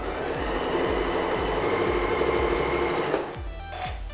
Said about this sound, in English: So let's get that last one sewn.